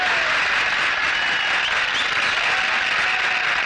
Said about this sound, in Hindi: आप लोग इनका तालियों से स्वागत कीजिए।